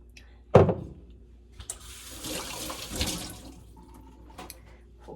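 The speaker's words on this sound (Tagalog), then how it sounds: "Hugas tayo ng kamay." Water runs from a kitchen tap over hands being washed, a soft splashing stream lasting a few seconds after a sharp knock, then fading to quiet drips.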